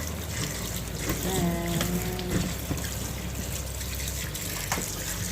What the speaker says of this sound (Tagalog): hugasan lang natin siya guys para matanggal yung mga bula-bula niya kanina